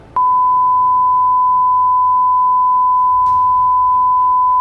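A steady, piercing electronic emergency alarm tone at an onshore site holds one pitch for several seconds, continuous and loud, with a soft click partway through.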